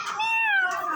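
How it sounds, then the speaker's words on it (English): A frightened house cat lets out one drawn-out, falling meow, close and clear, lasting about a second with no talking over it. "Oh, it's all right, Kitty. Don't be scared"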